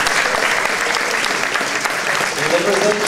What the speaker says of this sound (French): On peut les applaudir, nos candidats 2012.